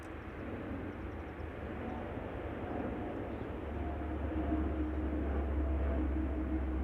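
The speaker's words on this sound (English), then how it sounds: "Dash 8100 from the Coast Guard, still with a Canadian registration" A Coast Guard Dash 8-100 turboprop, still carrying a Canadian registration, passes by, its engine a steady, moderately distant drone with a deep rumble that grows slightly toward the end.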